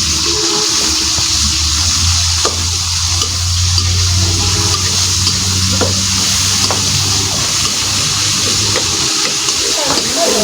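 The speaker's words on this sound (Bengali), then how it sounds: "তেল গরম হয়ে গেছে, এখন পেঁয়াজটা দিয়ে দিলাম।" Onion hits hot oil for a village-style chicken curry with kohlrabi, giving a loud, continuous close-up sizzle that stays strong and steady throughout, with a low rumble underneath.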